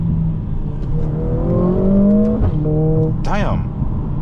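Mercedes-AMG GLA45, a 2024 four-cylinder, accelerating hard through rising gear harmonics, then a sharp rev blip and a brief swooping whine near the end, loud and close from inside the cabin.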